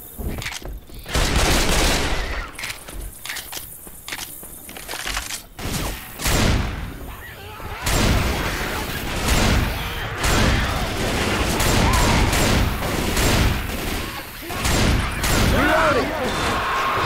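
Inferno bullets fired at a tank in a video game: dense, loud volleys of rapid gunfire and booms in repeated bursts, with a voice talking over the shooting.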